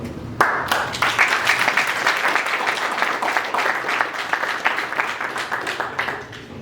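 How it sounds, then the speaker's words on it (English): Audience applause at a creative AI meetup greeting a presenter, steady, dense clapping from a room of people that holds at an even level for several seconds and then fades slightly at the end. "A round of applause for Koum"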